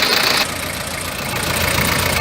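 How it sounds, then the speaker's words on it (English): A 1995 Toyota Hiace with a 1KZ-TE diesel engine and a hard-starting fault runs loud and close, then drops to a lower rumbling idle as it is switched off. "So I will turn off and we all see how it's cranking out."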